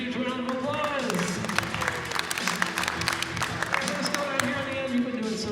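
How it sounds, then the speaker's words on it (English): An audience at a comedy hypnosis show at Mount Aloysius College breaks into sustained applause, a dense wash of clapping that carries through the whole stretch, with a voice talking over it near the start. "Give him a huge round of applause"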